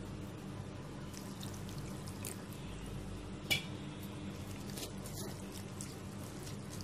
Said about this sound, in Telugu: ఇప్పుడు మళ్ళీ కొంచెం వాటర్ పోసుకోవాలి